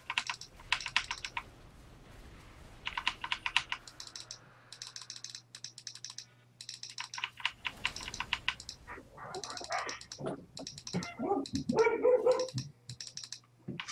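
A puppy barking in sharp repeated bursts close by, mixed with rapid computer keyboard typing and clicking during a League of Legends game.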